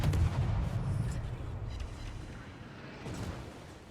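Naval guns firing in World of Warships, a heavy booming salvo with a rumbling tail that fades slowly, then a softer distant thump.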